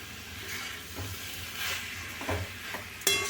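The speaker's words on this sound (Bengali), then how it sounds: "চিনিগুলো ভালো করে মিশিয়ে নিতে হবে" Sugar is stirred into tomato chutney in a pan. There is a soft sizzle with repeated scraping strokes of a spoon, fairly quiet and close, and a sharper clink near the end.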